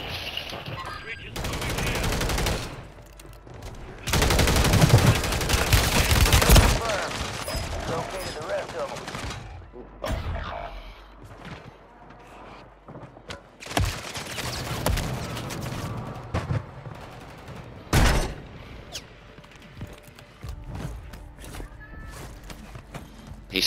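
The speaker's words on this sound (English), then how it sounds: "Bro, that's a 3-round burst gun" Call of Duty gameplay with rapid bursts of gunfire, including a 3-round burst weapon, mixed with explosions, footsteps and other game sounds over a dense, busy battlefield bed, fairly loud with some quieter stretches.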